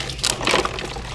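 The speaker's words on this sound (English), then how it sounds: "we're gonna drain the water out of the cooler" Water drains out of an Engel 25 cooler, a brief close splashing, gurgling rush with a couple of louder spurts.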